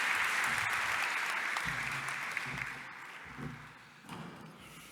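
An audience gives warm applause for the mayor of Palermo at a Mediterranean event, dense clapping that starts full and gradually thins and fades, with a brief renewed burst near the end.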